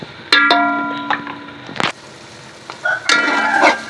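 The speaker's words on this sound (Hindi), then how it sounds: "इसे भून लेंगे, अपने मसालों का कच्चापन सारा ख़त्म कर लेंगे।" Ground red chilli, turmeric and coriander powder roast in a pan with chicken for a tikka biryani, giving a low sizzle broken by sharp metal scrapes and clatters of a spoon stirring against the pan.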